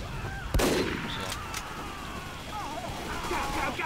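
Sniper rifle headshot in Team Fortress 2, one sharp loud crack near the start followed by scattered distant gunfire and game effects over the remaining seconds.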